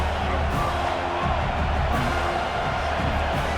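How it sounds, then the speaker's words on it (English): Stadium crowd roar in the College Football 26 video game during an Oregon versus Penn State red zone defensive stand, a steady, dense wash of cheering and noise that holds level throughout. "here comes the noise. This crowd is trying to inspire this defense to make a big red zone stop."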